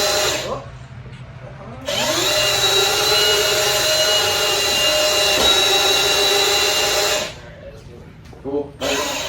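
Milwaukee M18 cordless mud mixer running in a thick mix, a loud steady motor whine that starts abruptly, holds for several seconds and cuts off, with brief talk and handling noise around it.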